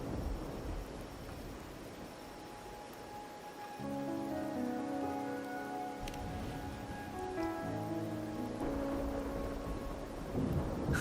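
Steady rain falls in the video game Wuthering Waves with a low rumble beneath it, joined midway by soft, sustained musical tones, with no voices throughout.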